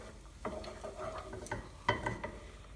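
Onion and chipotle chilli being stirred in a frying pan for chilli con carne, soft scraping strokes and light clinks over a faint sizzle, quiet and intermittent.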